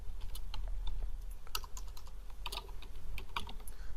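A name is typed on a computer keyboard in quick, uneven bursts of crisp key clicks, close and alone with no voices.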